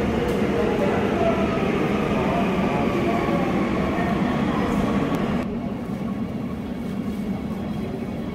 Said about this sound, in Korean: 지금 들어온 전철을 타고 이동을 하도록 하겠습니다.